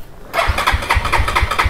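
A motorcycle engine catches and starts after a short quiet moment, settling into a loud, close, rhythmic putter of regular low firing pulses, with no talk over it.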